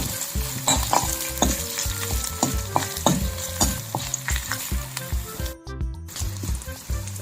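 Asafoetida tempering frying in hot oil for a wood apple chutney, a steady close sizzle broken by repeated scraping and stirring knocks, with no talking.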